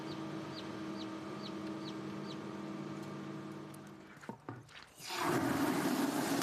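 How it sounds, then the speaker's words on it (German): Hens clucking in a poultry yard among turkeys, ducks and geese, a steady close chorus of repeated clucks that fades near the end as a louder broadband rush takes over. "Emma Bauer versorgt vorm Kuchenbacken noch die Hühner und Truthühner, die Enten und Gänse."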